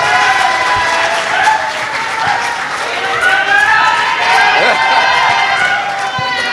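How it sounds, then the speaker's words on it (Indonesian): Audience applause and clapping for the West Java delegation at an anniversary event, a steady wash of crowd noise with a voice speaking over it. "Setelah itu dari Jawa Barat, kita kasih aplaus dulu."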